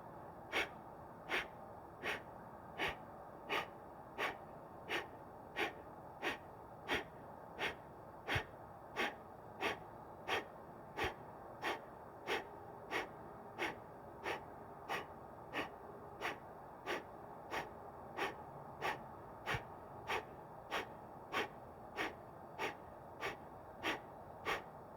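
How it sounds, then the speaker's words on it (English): Ujjayi breathing during yoga practice, a slow, regular series of audible throat-constricted breaths, each a short hissing pulse repeating about once a second, close and steady with no talking. "or just breathing in Ujjayi."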